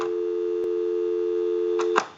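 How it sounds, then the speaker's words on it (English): A steady dial tone hums from a GE 27909 cordless telephone handset, continuous and unbroken for about two seconds before cutting off with a couple of brief clicks at the end. "give you some dial tone"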